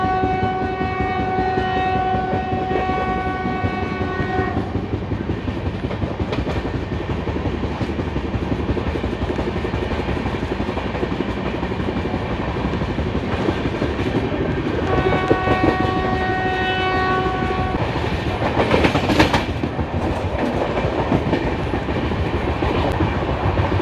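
A Vande Bharat Express speeds away from Khurda Road with a steady loud rumble and clatter of wheels, sounding its horn twice in long sustained blasts near the start and again midway.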